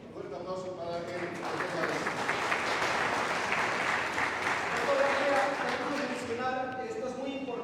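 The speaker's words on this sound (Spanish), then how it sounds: "Fuerte aplauso para él." An audience at a La Paz mayoral campaign event gives a warm round of applause that swells and fades, with a voice speaking over it at the start and end.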